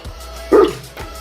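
A single loud dog bark, close by, a short burst with a quieter gap before and after, while a low hum stays in the background.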